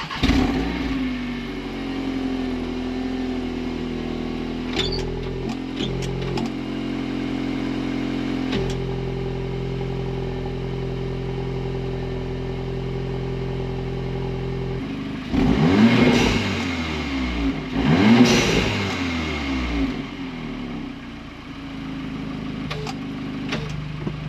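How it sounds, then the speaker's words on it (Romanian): A Cupra Formentor with a Supersprint full straight-pipe exhaust and turbo muffler delete fires up from cold, settling into a loud steady raspy high idle before two strong revving blips, then drops back to idle, close and without talk. "haide să vă arăt un cold start cum arată acum cold start-ul fără"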